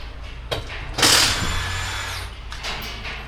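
An impact wrench works on a 2024 Ford Ranger XL 4x4 during a home-service oil change, giving a short whirring rattle near the start, then a loud sustained burst of about a second before tapering into the workshop background.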